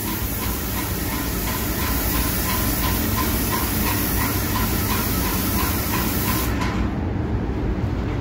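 Continuous loud, steady hiss of a spray gun applying a peelable brilliant-white spray booth coating in a single coat, with no break until it cuts off sharply near the end.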